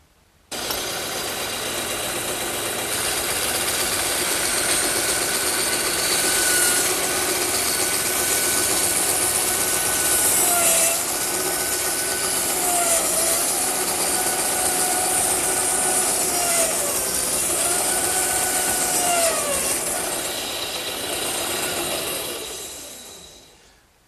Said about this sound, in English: I think I'll cut them over on the bandsaw.